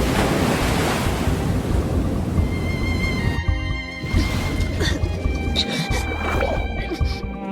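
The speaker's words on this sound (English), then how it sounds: "How did we end up in the ocean?" Underwater ocean surf in a video game churns and roars loudly, with deep rumbling swells and wind-like rushing that briefly drops out and resumes with bubbly shimmer.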